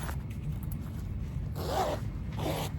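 A zipper sewn into a handmade fabric bag is pulled in two quick runs near the end, close and clear over a quiet room hum.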